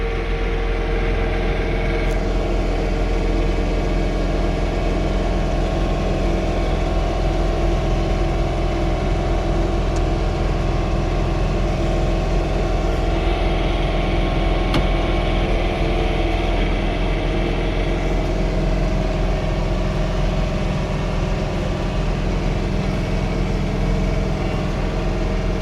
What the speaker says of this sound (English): I drive the tractor on the lawn